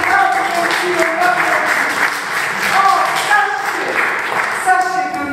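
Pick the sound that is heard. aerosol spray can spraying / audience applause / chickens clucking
audience applause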